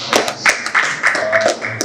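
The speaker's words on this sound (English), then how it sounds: "A round of applause for that." A small audience at a training event in Abuja claps in short bursts of hand taps, close and fairly loud, with a faint voice underneath.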